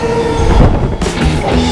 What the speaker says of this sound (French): Nous sommes maintenant à la gare de Shibuya.